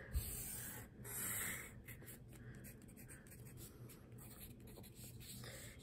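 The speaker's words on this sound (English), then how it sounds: "And your measurements, and I'm just drawing them really fast" Quick pencil or marker strokes scratch across a drawing pad as measurements for a drapery study are sketched, a steady run of close, soft rubbing strokes with no talking.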